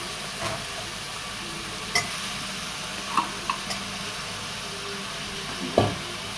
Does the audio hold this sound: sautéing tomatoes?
yes